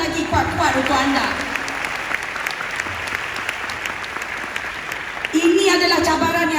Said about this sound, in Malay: Satu tepukan lagi kuat-kuat untuk anda.